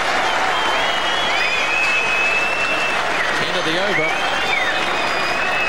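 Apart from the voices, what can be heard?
cricket crowd applauding a batsman's fifty at the Basin Reserve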